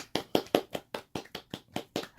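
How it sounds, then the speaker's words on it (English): Close, steady clapping from a hand or two, about ten evenly spaced claps in two seconds, heard alone as a thin stand-in for a round of applause. "We probably add a better round of applause sound, but bear with us."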